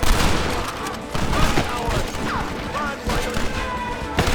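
Rapid gunfire in Red Dead Redemption, a dense fusillade of shots rattling loudly and continuously through a frantic gunfight, with voices shouting over the battle.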